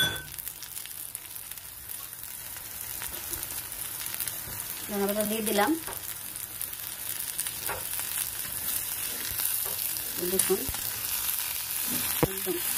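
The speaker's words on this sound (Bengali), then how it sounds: "ভাজা ভাজা করে নিচ্ছি" Cauliflower florets fry in oil with coriander leaves added, giving a steady, close hiss of sizzling with occasional stirring scrapes, while a voice talks briefly over it.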